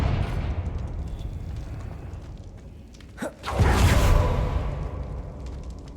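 In Hogwarts Legacy, a Confringo fire-blast spell lands with a sharp crack followed by a loud rushing, roaring burst that swells for about a second and then fades into the game's ambient rumble.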